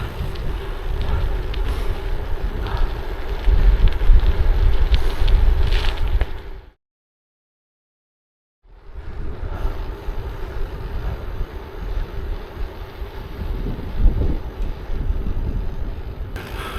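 Strong wind buffets the microphone while cycling along old railway lines and quiet lanes in Norfolk, a loud continuous low roar that cuts out briefly in the middle and then returns.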